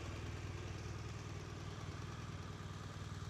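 A BMW R1200RS motorcycle with 19,000 km on it idles close by, its engine giving a steady, low, evenly pulsing throb with no other sounds.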